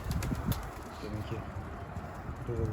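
Mardin pigeon cooing as it arrives at a coop, soft repeated coos with some wing flutter close by, layered over steady outdoor background noise.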